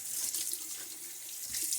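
Water runs steadily from a tap into a sink during a wet shave, a continuous splashing hiss close by.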